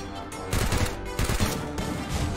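Gunfire in a shooting video game, several loud bursts of shots in quick succession, dense and close.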